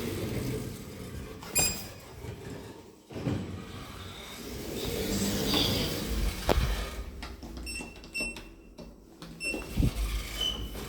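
Schindler elevator sliding doors gliding open and shut in a building, a rolling mechanical rumble with a thud, followed by quieter cabin hum and faint electronic beeps near the end.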